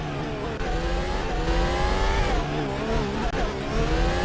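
Formula 1 race cars from the 2018 Australian Grand Prix in Assetto Corsa scream past on the circuit, with a loud, continuous high-revving engine note whose pitch climbs and dips through gear changes and a corner.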